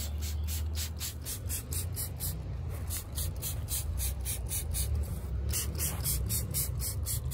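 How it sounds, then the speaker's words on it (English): A hand sprayer spraying tomato plants hisses in quick, evenly spaced bursts, a soft rhythmic spritzing that repeats steadily throughout with no one talking. "So I am also going to come over here and probably do a little spraying"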